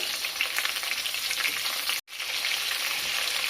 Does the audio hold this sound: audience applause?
no